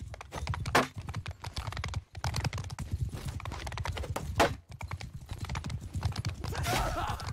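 Horse hooves galloping in Mount & Blade II: Bannerlord multiplayer, a fast, loud, continuous clatter of clip-clops with brief breaks and a faint neigh.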